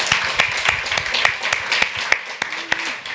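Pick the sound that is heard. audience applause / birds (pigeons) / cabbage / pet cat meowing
audience applause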